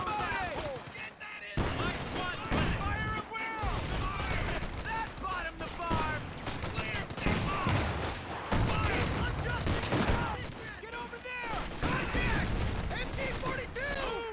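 Rapid bursts of gunfire and machine-gun fire from a World War II tank battle in the video game Company of Heroes 2, loud and continuous across the clip, with voices shouting over the combat.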